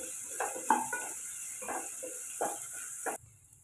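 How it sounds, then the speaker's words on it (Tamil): Chopped onions and chillies are sautéed in oil with cumin. A spatula scrapes and stirs in short, spaced strokes over a light hiss, then cuts off abruptly. "ஜீரகம் பொரிஞ்சதும் இதில் கட் பண்ண வெங்காயம், காரத்துக்கு மிளகாய் சேர்த்துக்கோங்க. சேர்த்துட்டு வதக்கி விட்டுக்கோங்க"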